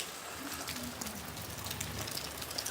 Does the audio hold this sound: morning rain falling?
yes